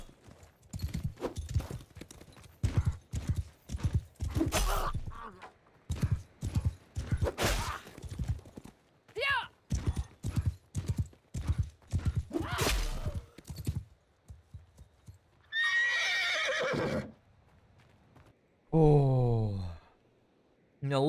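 Horse galloping in a medieval combat video game, rapid rhythmic hoofbeats in long runs broken by short pauses, followed near the end by a couple of loud neighs and snorts, close and prominent with no talk.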